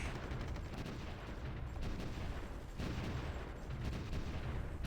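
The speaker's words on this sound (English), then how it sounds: "artillery is doing its job" Artillery fire in the World War I strategy game Supreme Ruler: The Great War, during the siege of Warsaw: a dense, continuous roar of overlapping gunfire and booms, loud and unbroken with no voices.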